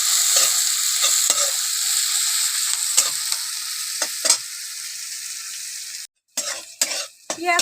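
Onions frying in a pan for a Bengali cabbage and fish-head chorchori, a steady loud sizzle with repeated scrapes of stirring, briefly cut off near the end before resuming.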